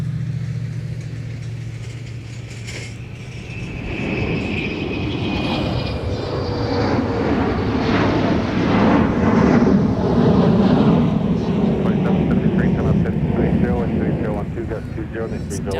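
A Delta Boeing 717 jet passing at Minneapolis–Saint Paul airport, a broad engine roar that swells and holds loud for several seconds with a whining tone, while a voice talks underneath.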